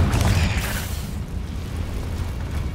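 Confringo blasting spell in Hogwarts Legacy, one loud close explosive burst with a booming low rumble that fades into a lingering crackling tail.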